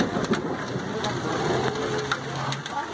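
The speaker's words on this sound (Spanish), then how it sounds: "Ya está parando poco a poco la lluvia." Rain patters steadily on surfaces nearby, with scattered louder drops standing out from the dense hiss as the shower slowly tapers off.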